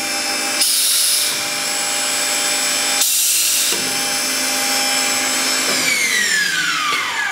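An Evans 2480 sink cut-out router with a 3 hp motor runs loud and close, a steady high motor whine with two short bursts of louder cutting hiss and a falling pitch sweep near the end, no talk.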